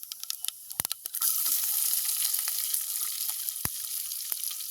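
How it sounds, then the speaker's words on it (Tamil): Fennel seeds and chopped onion hit hot oil in a village kitchen pan, bursting into a loud, steady sizzle after a few sharp clicks, with occasional pops and stirring knocks over the continuous hiss. "எண்ணெய் நல்லா சூடாகிட்டு நாங்கள் பெருஞ்சீரகம் போடுவோம். அதோட வெட்டி வச்சிருக்கிற வெங்காயம்"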